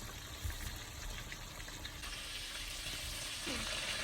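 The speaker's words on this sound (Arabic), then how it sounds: "هنا سخنت الزيت، هنزل بالبانيه" Breaded chicken panée fries in hot oil, a steady soft sizzle and crackle running throughout, close but fairly quiet.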